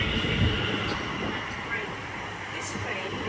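A Class 720 passenger train at Stratford station rumbles steadily nearby, a constant rail drone with faint higher whine throughout.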